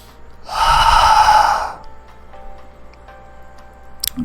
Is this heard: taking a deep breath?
yes